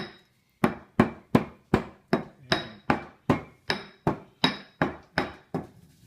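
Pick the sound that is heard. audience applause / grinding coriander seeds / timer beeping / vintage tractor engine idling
grinding coriander seeds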